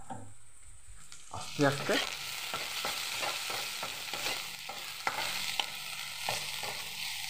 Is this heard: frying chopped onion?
yes